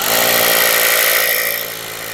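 Loud, harsh grinding roar of an ELTOS PA-20/26DFR BL cordless rotary hammer with a 4Ah battery boring into a concrete curb, holding steady then easing down near the end.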